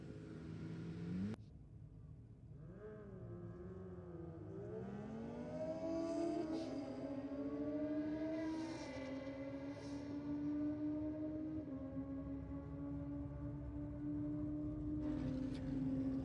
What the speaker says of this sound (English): We've got a battle of the big bikes down on track now.